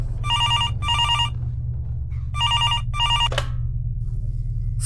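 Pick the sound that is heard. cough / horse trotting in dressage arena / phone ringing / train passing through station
phone ringing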